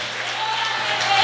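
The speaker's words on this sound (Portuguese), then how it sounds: "Aplaude, vai aplaudindo, vai." A church congregation applauding during worship, a continuous bright patter of many hands clapping that builds slightly, with a faint voice or sustained tone beneath it.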